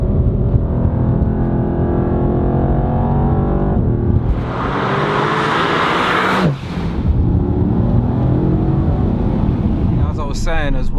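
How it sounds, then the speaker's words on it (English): A Mercedes AMG GTR revs hard and accelerates from inside the cabin, engine note rising loudly for a couple of seconds before a sharp shift, then settling back to a steady drone. "I'll just gas that. I can go burn about in an AMG Gtr."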